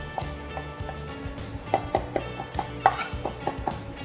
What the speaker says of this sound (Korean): 그리고 파슬리 찹도 곱게 다져 주시고